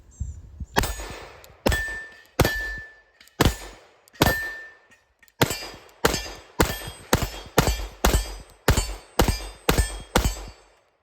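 A pistol fitted with an enclosed red dot sight fires at steel targets, a string of about eighteen loud shots, each followed by a metallic ring, first spaced out and then coming in rapid regular pairs and bursts.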